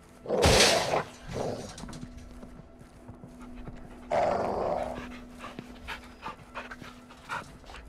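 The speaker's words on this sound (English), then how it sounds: "See the caged dog?" A dog growls and pants in Call of Duty: Modern Warfare II, coming in two loud breathy bursts with softer clicks and footstep-like taps between them over a low steady hum.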